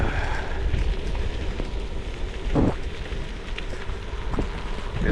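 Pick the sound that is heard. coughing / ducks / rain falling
rain falling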